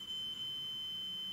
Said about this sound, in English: So we can check with the continuity tester